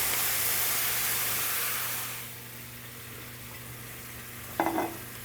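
Red wine sizzles and reduces in a hot steak pan for a simple pan sauce, a broad steamy hiss that starts strong and fades to a quieter simmer, with a brief clatter near the end, no talking.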